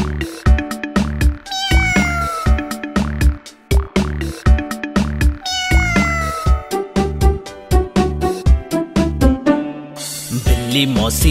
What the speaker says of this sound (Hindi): बिल्ली मौसी कहो कहां से आई हो